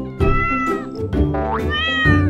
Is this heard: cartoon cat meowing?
yes